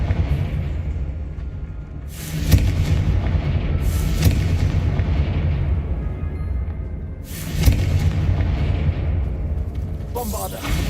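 Confringo blasting-spell explosions in a Harry Potter video game: several loud booming blasts with whooshing bursts, spaced a couple of seconds apart over a constant rumbling game soundtrack.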